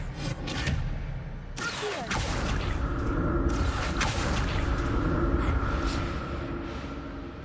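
Expelliarmus spell cast in the video game Hogwarts Legacy: a sharp whooshing burst followed by dense rumbling magical effects and swells.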